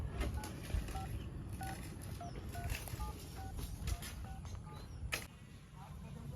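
A telephone keypad being dialed, heard as a quick series of short, evenly spaced beep tones over steady background noise, with faint voices in the background.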